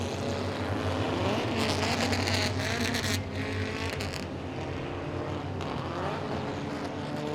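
UCARs race cars circling Langley Speedway before the green flag: loud engine roar swelling and fading as cars sweep past nearby, with overlapping engines in a continuous rumble.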